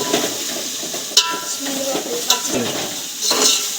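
Ginger garlic paste fries in oil, a close bright sizzle with stirring scrapes and occasional clinks of a utensil on the pan, with brief voices in the background.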